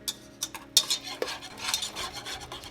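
A whisk scraping and stirring cheese into a sauce in a pot, irregular metallic swishes and taps up close, fairly quiet, with no speech.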